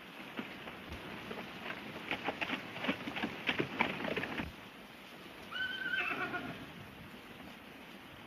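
A horse whinnies faintly in a 1930s western outdoor scene, following a run of quiet hoof clip-clops and light patter in the background.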